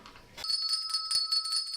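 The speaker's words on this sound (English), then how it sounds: "Now, where's my bell?" A bright hand bell starts ringing partway in and keeps up a continuous, rapid high-pitched jingle, loud and close, with no talking.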